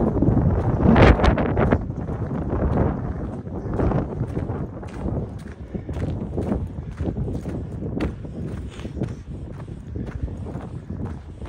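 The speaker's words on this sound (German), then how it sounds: "Etwas windig heute." Steady outdoor wind buffets the microphone, a continuous broadband rush with gusty swells and a few sharp knocks, no voices.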